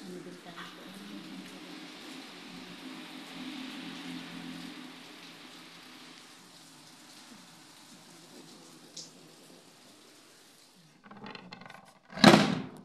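Steady rain falls outside a window in a house, a soft continuous patter, with a sharp clatter and rustle near the end.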